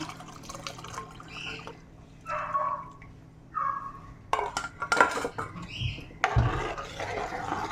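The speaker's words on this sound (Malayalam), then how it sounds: "ഇത് കൂടെ ഒന്ന് അരിച്ചൊഴിച്ചേക്കാം" Coconut milk is strained and poured into a pot of potato stew for Onam, with clinking of utensils and dishes, a liquid pour and soft drips, then a louder clatter near the end; no talking.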